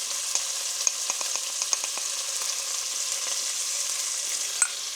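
Chopped onions sautéing with a sprinkle of salt in a pan for caldo verde, a soft continuous sizzle with a few light ticks and pops from stirring, close and steady with no voices.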